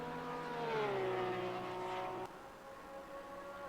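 Race car engines in Assetto Corsa Competizione at the Spa 24-hour event, a faint steady engine whine that dips in pitch as a car lifts off, then drops to a quieter hum after a sharp click.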